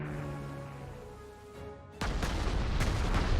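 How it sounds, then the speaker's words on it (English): Bombing explosions in the WW2 strategy game Panzer Corps 2: a low droning engine tone gives way to a sudden heavy boom, then a rumbling run of blasts that stays loud to the end. "Bombs away."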